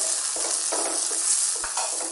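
Onions and tomatoes sautéing in a pan with curry leaves and chilies for yam curry, giving a soft continuous sizzle broken by a few stirring strokes, with no talking.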